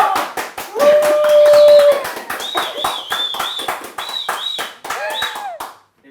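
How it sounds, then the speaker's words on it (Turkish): One person claps close by, delivering quick, evenly spaced claps that keep coming for several seconds before stopping, while sustained tonal sounds run over them. "çok güzel oldu onun için alkışlamak istedim"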